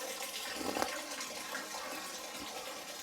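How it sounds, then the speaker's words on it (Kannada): Spring water runs steadily at Antaragange cave, a continuous close splashing gush with no pauses and no voices. "ಯಾವತ್ತೂ ನಿಮಗೆ ಸ್ಟಾಪ್ ಆಗೋದೇ ಇಲ್ಲ ನೀರಿದು."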